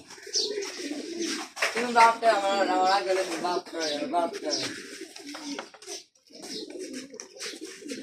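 Lesser and Bombay pigeons coo in soft, repeated throaty calls close by, with people talking over and between them.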